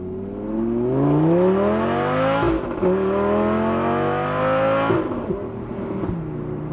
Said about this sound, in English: We'll pull out and get you guys a little bit of sound.